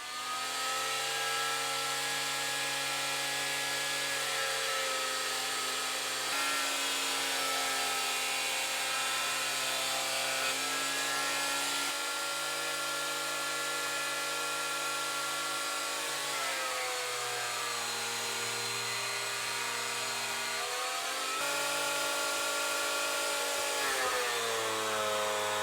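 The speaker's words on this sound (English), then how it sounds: "I've got 2 bits, they're rough sawn, so the first job is to get these planed down." Power planer working rough sawn oak boards for a lamp, a steady loud motor whine held for long passes, with several brief breaks and pitch dips where the cutter bites into the wood.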